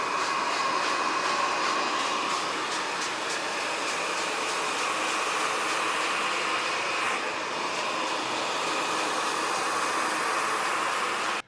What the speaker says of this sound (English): So now I've blow dried it all up